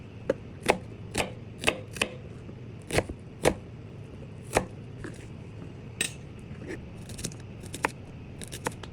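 Onion is chopped with a knife on a board, a series of sharp, close knife taps in irregular bursts, quiet between strikes, with no speech.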